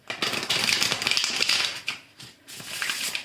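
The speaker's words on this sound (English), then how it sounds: "One more shuffle and then we're done." Tarot cards shuffled close up in quick riffling bursts, a crisp papery flutter with a short pause before a final burst.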